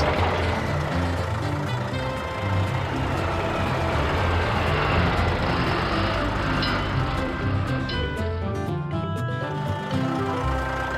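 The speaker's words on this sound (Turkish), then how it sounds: "asfalt silindiri zemini düzleştiriyor" A cartoon asphalt road roller flattens the ground, giving a loud, continuous rumbling vehicle engine drone with tonal mechanical whines and no speech over it.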